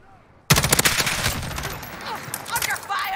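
Gunfire in an online shooter video game, a sudden loud burst of rapid automatic shots beginning after a brief quiet moment, followed by scattered further shots and sharp chirps.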